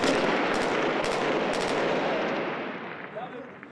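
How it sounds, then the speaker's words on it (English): Gunfire from an enemy sniper during urban combat in the battle for Mosul, Iraq: a few sharp cracks in the first two seconds over a dense, loud roar of battlefield noise that slowly fades. "رموا عليه من ذاك الاتجاه اتجاه العدو علينا"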